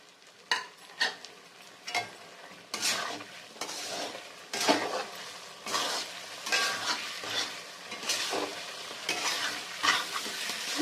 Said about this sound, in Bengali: আমি ডুমো করে কাটা আলুগুলো দিয়ে আবারও একটু ভালো করে কষিয়ে নেব